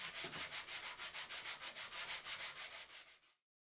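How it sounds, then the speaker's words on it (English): Fine wet or dry sandpaper is rubbed over a metal casting in about sixteen steady, even strokes, a soft close rasping rhythm that stops abruptly. "when I was using the finer wet or dry sandpaper, I even rubbed the top part of the casting."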